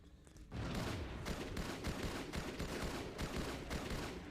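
Sustained gunfire and explosive blasts from a Halo 2 demo battle, a loud rapid burst of shots and booms running continuously after a brief quiet opening, with no clear single grenade blast standing apart.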